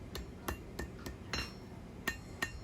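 A hammer strikes a small knife blade on an anvil to forge its bevels, seven sharp ringing blows at a steady, unhurried rhythm, close and fairly quiet.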